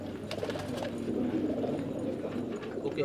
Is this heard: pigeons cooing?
yes